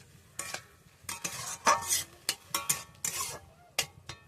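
Water poured onto fried food in a hot pan while cooking a quick tiffin recipe, producing a run of close sizzling hisses and bursts mixed with the clatter of stirring against the pan, with no talk.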